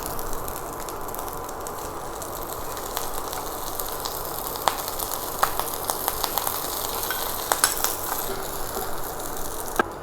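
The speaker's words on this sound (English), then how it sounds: "Now I'm going to add in the rice" Rice is stir-fried in a hot pan for chicken and egg fried rice, a steady close sizzle broken by scattered scraping clicks of the spatula, with no talking.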